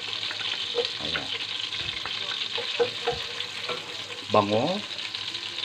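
Garlic frying in melted butter in a pan, a continuous close crackling sizzle with a voice talking over it.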